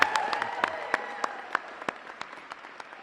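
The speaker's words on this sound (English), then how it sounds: "How about another round of applause for our students?" Applause for students at a University of Illinois first-day event, a thinning round of clapping with distinct individual claps standing out as it tapers off.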